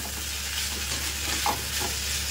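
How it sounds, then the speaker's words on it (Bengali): Fish frying in a pan in a home kitchen, a steady broadband sizzle with a few faint stirring touches, close and continuous throughout. "এখানে মাছ ভাজা হচ্ছে"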